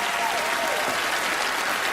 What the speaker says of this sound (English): let's have a round of applause for him as he makes his way out.